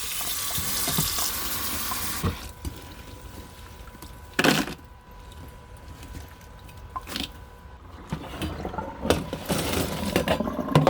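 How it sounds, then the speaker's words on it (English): Water runs steadily from a sink tap while cicadas are rinsed clean, with a constant splashing flow, occasional louder gushes and clatters, and light handling noises close by. "Clean about 5 times, because make them nice and clean, and until the water is crystal clear."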